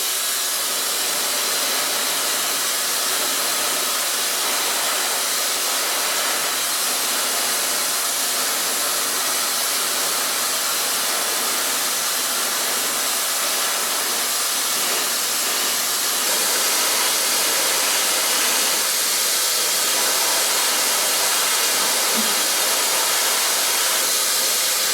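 A hair blow dryer runs continuously on short pixie-cut hair in a salon, a loud steady whooshing roar for the whole stretch with no break.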